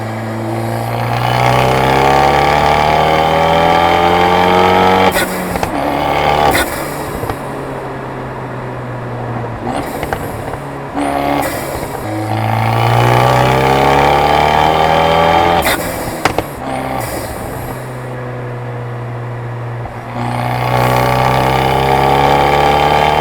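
Stock-turbo, tuned Fiat 124 Spider Abarth engine on the move, loud and close, with repeated pulls that rise in pitch, each one cut by a brief shift or lift and then building again.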